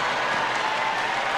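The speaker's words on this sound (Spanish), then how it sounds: "Y aplaude de nuevo, ¿eh?" Steady crowd applause from a tennis match in the Top Spin 4 video game, a dense, even wash of clapping that holds at a constant level throughout with no voices on top.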